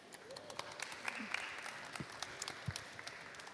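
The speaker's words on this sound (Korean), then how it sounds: "Please give her a round of applause" Audience at a Seoul crypto art afternoon conference giving a modest round of applause, scattered claps fairly faint against room noise, brief and thinning out.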